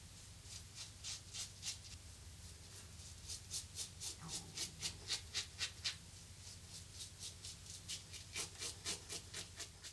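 Double-edge safety razor shaving upward against the grain on a third pass, giving a run of quick scratchy rasping strokes in rhythmic bursts, close and fairly quiet.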